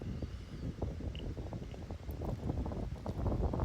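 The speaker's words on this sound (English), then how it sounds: "look at that wind pushing against that ball" Strong wind on a golf course roars and buffets the microphone in a steady, rumbling low wash with gusty swells, loud and continuous with no talk.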